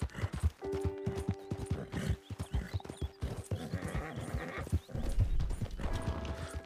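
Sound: horse hooves in a video game

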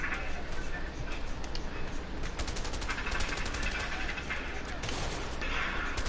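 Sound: shotgun fire in video game A Way Out

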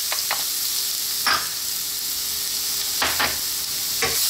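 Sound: garlic and ginger sautéing in a pan

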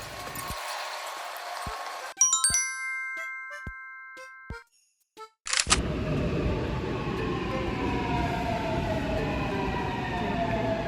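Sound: subway train arriving at a station

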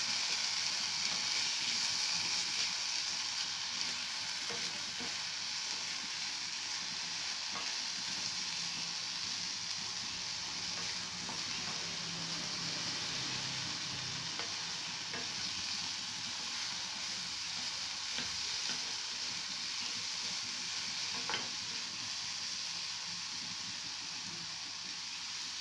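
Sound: cauliflower and egg scramble frying in a pan

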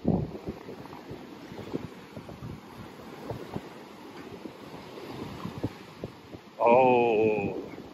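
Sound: strong wind by the sea

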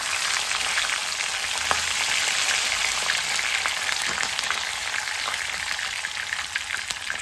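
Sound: curry leaves frying with mustard seeds and chillies in oil

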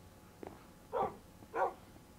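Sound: dog from the video game Minecraft after being hit

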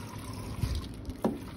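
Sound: water poured from a bucket flowing over a model canyon

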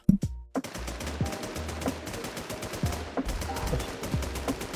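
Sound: gunfire in a video game

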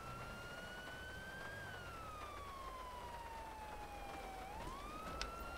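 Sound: police car siren in GTA V LSPDFR video game

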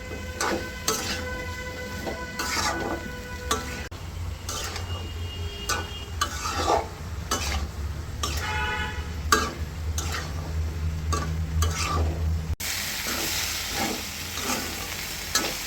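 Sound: stir-frying bean seeds with potatoes in a pan

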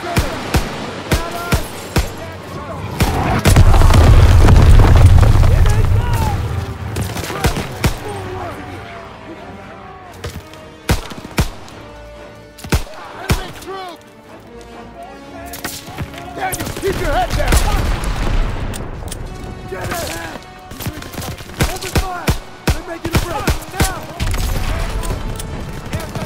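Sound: gunfire and explosions in the video game Call of Duty WW2

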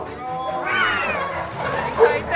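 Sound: XL American Bully dogs barking

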